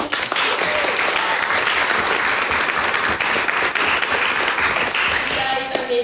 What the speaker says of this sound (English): the two maiden speakers, Victor and Derry, who I think deserve another round of applause.